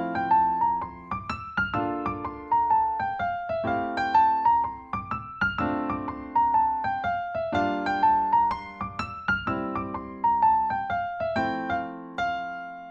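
Jazz scale lines with a swung dotted-eighth-note rhythm, notes in uneven long-short pairs on a clear, bright instrument, cycling up and down in repeated phrases, solo and steady in loudness.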